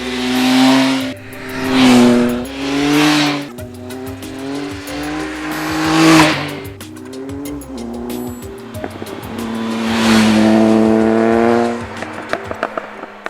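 A Triumph Speed Triple R motorcycle out on the road, its three-cylinder engine revving up and down through the gears in loud rising sweeps, with pauses between pulls and a brief rattly idle.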